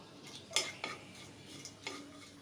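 Bay leaves, cloves, cardamom and whole cumin stirred in oil left from frying fish, giving a few faint, separate spatula clinks and scrapes against the pan with only a quiet background and no clear sizzle.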